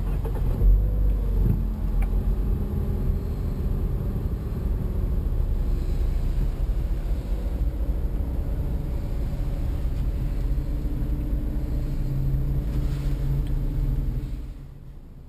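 A 2014 Mazda6 with push-button start fires up, heard from inside the cabin as a short start-up thump followed by a quiet, steady low idle rumble that fades near the end.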